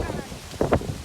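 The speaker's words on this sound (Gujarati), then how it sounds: "કેટલી હવા આવી." Wind gusts buffet the microphone outdoors at a farm, a steady rough rumble with two stronger blasts partway through; a voice is faintly audible underneath.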